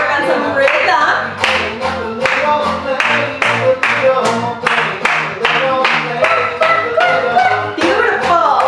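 Hands clap steadily along to upbeat music during a children's movement activity, with loud, evenly spaced claps running throughout.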